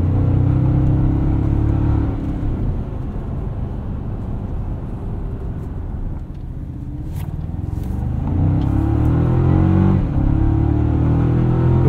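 Steady, loud engine drone and road rumble from a 2024 Toyota Tacoma with the 2.4 turbo and 8-speed automatic while driving, with the engine rising and falling slightly across the run and no voices.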